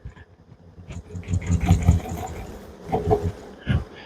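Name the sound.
honey bees buzzing while being shaken into a box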